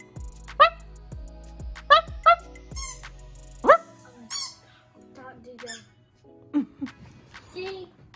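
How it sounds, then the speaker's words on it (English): A Yorkshire Terrier puppy gives several sharp, squeaky high-pitched barks and yips in bursts, close by, with a person talking between them. "He just bark."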